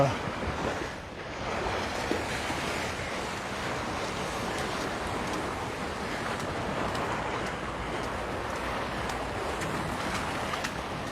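Ocean waves break at Waikiki Beach on Oahu, Hawaii, a steady, moderately loud surf wash, roughened by wind buffeting the microphone, with faint talk in places.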